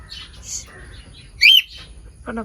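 A bird gives a sharp, loud chirping cry midway, with softer scattered calls before it and a brief rapid call at the end.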